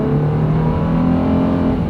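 A high-mileage vehicle with a replaced transmission accelerates down a small drag strip, its engine giving a loud, steady, smooth drone heard from inside the cabin.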